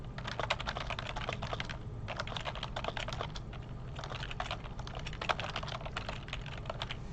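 Steady typing on a computer keyboard while setting text along a path in Illustrator, a continuous patter of close, crisp key clicks in dense bursts with brief pauses, no voices.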